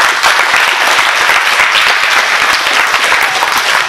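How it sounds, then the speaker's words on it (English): Dense, loud applause from a school audience at a knighting ceremony for a young scholar, steady clapping throughout with a faint voice underneath. "Big round of applause. Real big round of applause."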